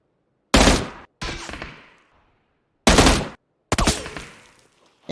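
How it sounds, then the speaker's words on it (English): Machine gun fire in a video game, two loud close bursts of rapid shots, each followed by a fading echo, separated by a short silence. "I give him a little reminder, 6 bullets, 2 bursts, just to let him know"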